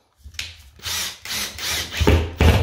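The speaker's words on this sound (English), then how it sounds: "just getting the second screw in there" A power drill drives a screw into timber overhead during a patch repair of a hole in a textured swirl ceiling: short bursts of whirring and grinding that stop and start, ending in louder tightening pulses, close by.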